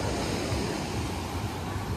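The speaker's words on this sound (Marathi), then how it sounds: "आवाज बघा, या लाटा आहेत." Ocean waves breaking on Poovar beach in Kerala at night, a steady broadband wash of surf with gentle swells, close and continuous, no voices.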